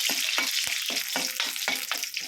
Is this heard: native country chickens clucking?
no